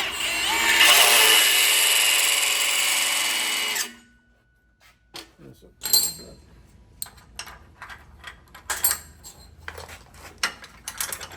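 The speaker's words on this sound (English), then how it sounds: "So I'm going to drill a hole in this that'll match that." A power drill boring a hole in steel for a shop-built fabrication table, a loud steady whine for about four seconds, then stops, followed by clanks and handling noises of metal parts close by.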